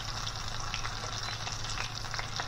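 Whole fish sizzling in a frying pan on a home stove, a steady dense crackle of hot oil that holds at an even level throughout, with no talk.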